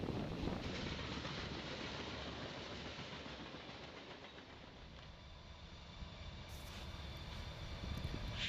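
Norfolk Southern vintage diesel locomotive NS 3078 with slug 924 switching in downtown Roanoke, Virginia: a steady, distant rumble of rail equipment with faint clattering, holding fairly even throughout with no talk.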